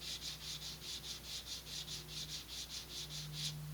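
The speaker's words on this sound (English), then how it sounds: "I have a big old piece of sandpaper here that I only really use for this kind of purpose" Sandpaper rasps back and forth across a model rocket fin held at about 45 degrees, steady rhythm of about four strokes per second, close up and fairly quiet, with a faint low hum underneath.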